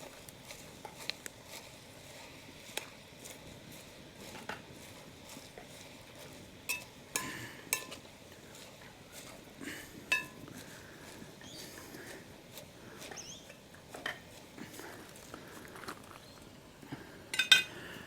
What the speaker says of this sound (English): We'll give it a bit of a mix around